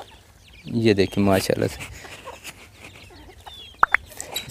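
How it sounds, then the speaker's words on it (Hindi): White guinea fowl on a farm give a close run of rhythmic clucking calls in a short burst, followed by a few sharp chirps, while someone talks nearby. "इसके अंदर हर साइज़ का चकोर है। चकोर मनी जो चैना मुर्गी या सफ़ेद तीतरी जिसको कहते हैं"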